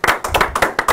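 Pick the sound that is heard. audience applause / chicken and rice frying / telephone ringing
audience applause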